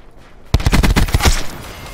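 Rapid burst of automatic gunfire from a Call of Duty: Black Ops 4 multiplayer match, a tight string of sharp close shots starting abruptly after a brief quiet moment and trailing into echoing tail, loud and alone.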